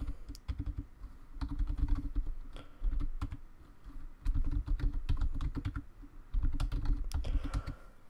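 Rapid bursts of typing on a computer keyboard while user account details are filled in, clattering keystrokes in several close, loud runs separated by brief pauses.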